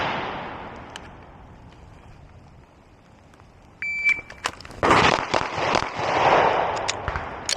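A Glock 47 pistol fitted with a Radian Ramjet fires a Mozambique drill at a range: a quick cluster of loud, close, sharp shots with ringing echoes, after a quieter stretch of background hiss.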